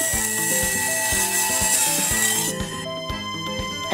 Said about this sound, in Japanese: タミヤのプラボードを丸ノコ板でカット。